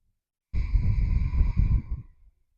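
One long, deep breath is drawn close to the microphone, a breathy inhale-exhale lasting about two seconds that fades out, with silence before and after.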